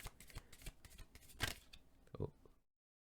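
Tarot cards shuffled by hand during a card reading, giving a run of quick riffling and flicking bursts with a couple of louder snaps, close and fairly quiet before it stops.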